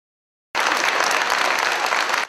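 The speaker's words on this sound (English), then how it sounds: "Aside from the cheering, sign waving, and even the occasional shouting" A large crowd of about six hundred at a town hall meeting in Medford bursts into loud, sustained applause and cheering after a moment of silence, steady until it fades at the end.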